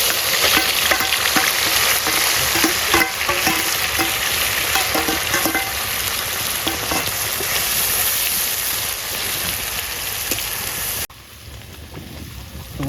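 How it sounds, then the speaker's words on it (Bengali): A ginger, garlic, onion and green chili paste hits hot oil and fries with a loud, dense, rain-like sizzle that continues steadily before cutting off abruptly near the end. "তো আমরা সেটা তেলের উপর দিয়ে দেবো গরম তেলে।"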